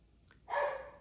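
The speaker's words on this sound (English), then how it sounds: "That's my dog barking." A dog gives a single short bark, fairly close and clear, after a brief faint whimper against a quiet room.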